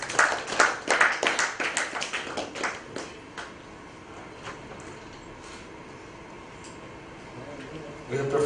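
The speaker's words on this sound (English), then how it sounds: "let's give a round of applause for them" An audience at a conference session on skill development claps for the previous speakers, a short burst of fairly faint applause that thins out and fades within a few seconds.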